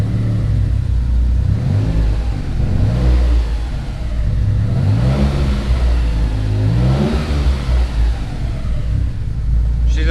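Mitsubishi 3000GT engine after a warm start, idling and lightly revving with no throttle input, a loud, close, steady rumble with rising and falling engine tones throughout.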